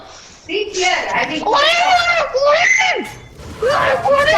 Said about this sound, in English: stop shouting